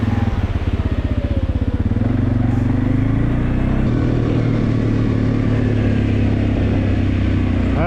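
A 2023 ATV engine, either a Segway Snarler AT5L or a CFMoto X5 520L, revs hard against its rev limiter, bouncing in a fast stuttering pulse before holding a steady high drone, loud and close throughout.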